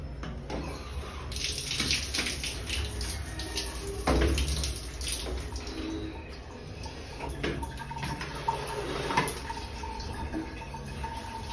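Thin stream of water running from a cold-water tap into a hotel sink in a beach resort, a steady low-pressure hiss with occasional splashes, close by and continuous with no talking.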